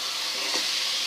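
Food being sautéed in a pan gives off a soft, steady frying hiss for about a second, fairly quiet, with a faint stirring swish in the middle and no voices.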